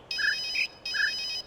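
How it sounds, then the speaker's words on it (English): A cell phone ringtone plays as a distracting sound inside a listening puzzle in The Witness video game: two even bursts of bright electronic ringing separated by a short gap, moderately quiet, with no voices. "It adds a distraction being the fucking cell phone."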